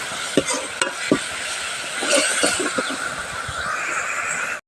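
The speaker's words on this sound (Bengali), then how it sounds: "আর এবার এই মশলাটা সুন্দর করে কষিয়ে নেব।" A spice paste of onion, ginger, garlic, cumin and turmeric fries in a pan with a continuous close sizzle and several sharp spatula scrapes and knocks early on, then a smoother stirring hiss; no voices.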